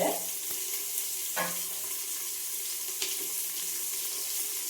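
Spices for kushka frying in a pan, a close, steady bright sizzle running throughout with a few faint clinks of stirring.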